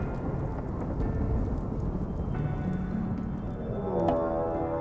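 Thunderstorm with steady rain in the colony-building game Rimworld: continuous broadband rain hiss with low rumbling thunder rolling through, a swell near the end, no voices.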